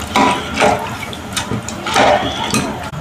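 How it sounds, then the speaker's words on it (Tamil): Water poured onto ration rice in a pressure cooker, several glasses' worth, splashing loudly and close in repeated surging pours with no talk. "இப்போ 3 கிளாஸ் அரிசிக்கு 6 கிளாஸ் தண்ணி ஊற்றி போட்டாச்சு."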